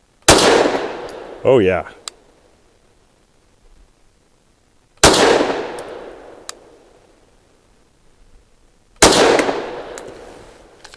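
Three loud, sharp pistol shots from a ported Canik METE MC9, evenly spaced several seconds apart, each a crack with a brief outdoor echo tail; someone speaks briefly after the first shot.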